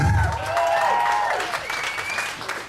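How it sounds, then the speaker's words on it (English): Applause from the audience at a PechaKucha Night in Ubud as the first speaker is called up, a steady wash of clapping lasting a few seconds, mixed with some voices and a bright tonal sound over it. "Applause!"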